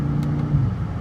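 A 2016 BMW M5 engine hums at a steady, low rumble while the gears are shifted manually, with a couple of faint clicks over the continuous drone.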